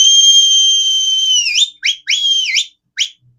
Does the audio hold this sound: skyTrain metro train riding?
no